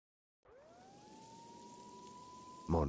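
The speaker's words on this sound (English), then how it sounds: "Mona must have heard the sirens too." A single police siren wail in the game Max Payne 2 rises and holds a steady tone, fairly distant, before a louder burst of noise cuts in at the end.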